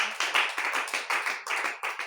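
A church congregation claps in a quick, steady rhythm, roughly a dozen bright beats over two seconds, close and lively, with no voices over the applause.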